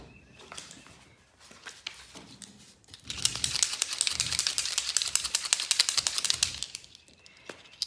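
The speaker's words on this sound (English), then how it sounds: "I need to shake up my marker." A marker shaken by hand before use in a UV resin craft project, giving a fast, dense rattling burst of clicks close by that runs for several seconds after a quieter start.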